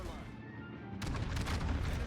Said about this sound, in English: then we can actually blind fire into the smoke